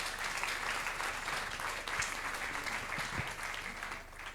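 An audience gives an ovation for a president at the official launch ceremony of a national week's third edition, with sustained applause filling the hall, steady and dense before easing slightly at the end.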